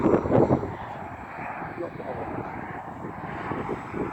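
An RC model plane fitted with 3D printed blades flies overhead, its steady engine buzz faint and distant beneath people talking nearby outdoors.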